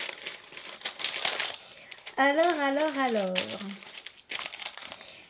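Crinkly paper printed with Too Faced lettering is unwrapped from a GlossyBox beauty box, producing bursts of close crackling and rustling; a voice speaks over parts of it, with a high sung or hummed passage in the middle.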